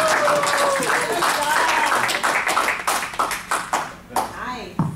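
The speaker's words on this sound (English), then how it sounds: "I ask you to join me in giving him a second round of applause" Applause from a board meeting audience for a volunteer on his honeymoon, clapping that breaks into sparser individual claps and fades out, with people talking over it.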